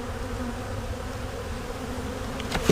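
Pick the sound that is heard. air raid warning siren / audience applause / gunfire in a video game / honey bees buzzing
honey bees buzzing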